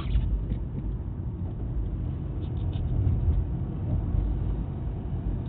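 A car drives along during a driving-school mock test, its engine holding a steady low rumble close by, with no speech over it. No clear gear change stands out.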